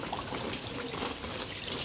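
Guavas being rinsed under a running tap, giving a steady, close trickle and splash of water that continues evenly for the whole short stretch, with no voices over it.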